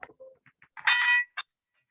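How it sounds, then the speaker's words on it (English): A short alert bell rings once with a bright clang, framed by a few soft ticks and a final brief ding, loud and close against near silence. "Cut this bell"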